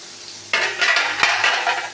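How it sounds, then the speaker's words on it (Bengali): Bitter gourd and potato pieces frying in oil in a pan, a steady close sizzle that starts abruptly partway in, with a sharp utensil clink near the middle and no talk. "আর এখানে উচ্ছে আর আলুটাকে ভাজতে বসিয়ে দিয়েছি"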